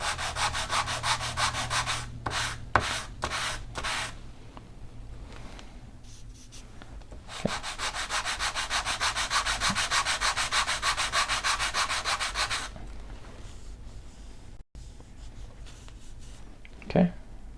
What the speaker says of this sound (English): I'm going to run it over the sandpaper till I can get those tabs worn down